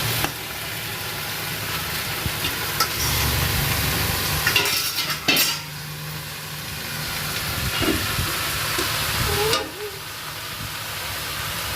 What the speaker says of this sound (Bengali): এবার আমি আস্তে আস্তে বাঁধাকপিগুলো দিলাম